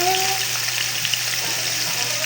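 Chicken liver sautéing in a pan for chop suey, a loud steady sizzle of frying that holds evenly throughout, close and continuous with no pauses.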